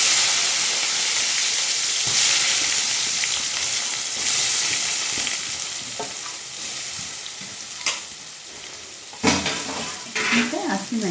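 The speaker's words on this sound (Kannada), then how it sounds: "ಈಗ ಸಾಸಿವೆ ಜೀರಿಗೆ ಹಾಕ್ತಿದ್ದೀನಿ ಮತ್ತು ಈರುಳ್ಳಿ ಹಾಕ್ತಾಯಿದ್ದೀನಿ" Mustard seeds, cumin and onion hitting hot oil, a bright steady sizzle that fades gradually, followed by a few clinks of a utensil against the pan and louder stirring scrapes near the end.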